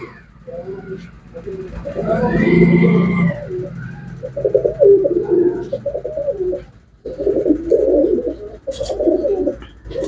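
Pigeons for sale coo in deep, rolling bursts, close by, with several overlapping calls and short pauses between phrases; a voice is heard speaking at times.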